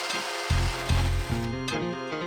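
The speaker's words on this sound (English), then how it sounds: "all that's left to do is cut some notches in these points for the line to spool onto" A caribou antler ice-fishing jigger has notches cut into its points, producing a few rasping, slightly squealing strokes in quick succession, close and clear.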